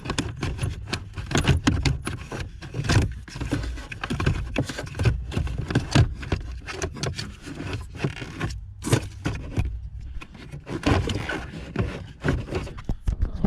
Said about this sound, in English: after that I can turn the blower motor